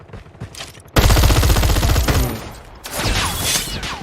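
Loud bursts of rapid gunfire in Call of Duty Mobile battle royale, a dense volley followed by a pause and another stretch of shooting.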